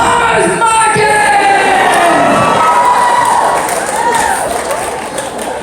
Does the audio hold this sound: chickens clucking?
no